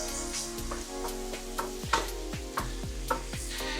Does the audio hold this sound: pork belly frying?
yes